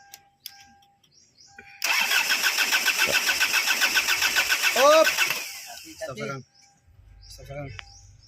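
An engine that has sat unused for about a year cranks and fires, then settles into a loud, rhythmic idle for several seconds before cutting out, with birds chirping and a few short shouts from people nearby.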